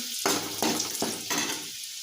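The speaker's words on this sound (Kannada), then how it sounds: "ಬೆಳ್ಳುಳ್ಳಿ ಕೆಂಪಗಾಗೋವರೆಗೂ ಹುರ್ಕೊಂಡ್ಬಿಟ್ಟು" Garlic fries in oil in a pan, a close, loud sizzle that swells in several surges as it is stirred, with no talk.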